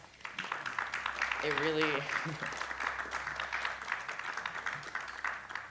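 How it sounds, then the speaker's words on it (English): A student audience at associated student elections speeches applauds the candidates with a continuous round of clapping while a speaker briefly talks over it. "Can we please give them a round of applause?"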